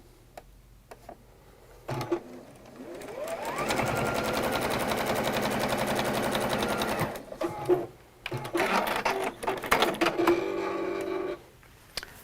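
A domestic sewing machine stitches plain quilt squares together, its rapid mechanical whirring and ticking running steadily for several seconds, stopping, then starting again in shorter bursts, close and fairly loud.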